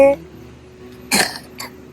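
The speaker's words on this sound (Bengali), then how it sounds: "কাশছে।" Two short, sharp bursts of a person coughing or clearing the throat, close by, over quiet background at a checkpoint.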